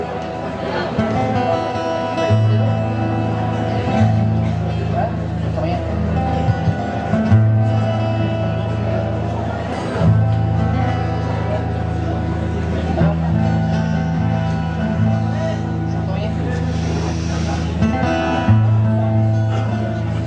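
A choir sings sustained, harmonious chords at a moderate distance, the voices blending into a steady, flowing melody.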